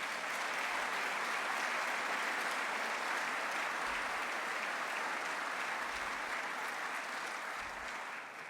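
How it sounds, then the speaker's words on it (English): Steady, dense applause from a large crowd at a mayor's annual State of Metro address, sustained and even throughout without a break, with no voices standing out. "They deserve a round of applause."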